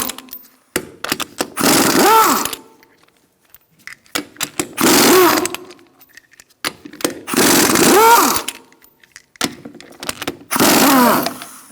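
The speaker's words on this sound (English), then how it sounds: "Using a 19mm socket, we're going to remove our lug nuts." An impact wrench spins off lug nuts with a 19mm socket on a Honda CR-V wheel, four loud rattling bursts of about a second each, separated by quiet pauses and small clicks.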